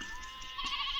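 A short, thin bleat from sheep being herded along a road, fairly close and moderately loud, standing alone without talk.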